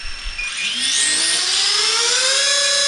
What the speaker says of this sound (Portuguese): Vou dar o start nos motores e vou simular o voo.